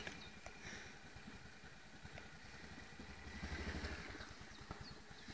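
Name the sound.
Honda Rincon TRX 680 ATV engine running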